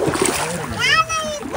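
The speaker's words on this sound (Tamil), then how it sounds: "யானை தண்ணியில நீச்சல் அடிச்சு வருது." An elephant swims and splashes in the water of Parambikulam dam, with short close splashing sounds under people's excited voices.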